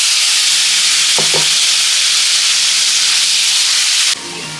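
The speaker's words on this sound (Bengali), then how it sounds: "বন্ধুরা আলুটা ভাজা হয়ে গেছে, সুন্দর করে ভেজে নিয়েছি আলুটা।" Potatoes coated in turmeric and salt sizzle steadily in hot oil with whole cumin seeds in a pan, a loud continuous frying hiss with a brief stir partway through that cuts off abruptly near the end.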